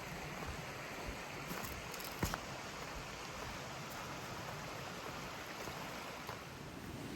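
Brown Mountain Creek on the Appalachian Trail in Virginia: steady broadband rushing of a stream heard from right beside it at a campsite, continuous and even, with a faint tap or two and no voices.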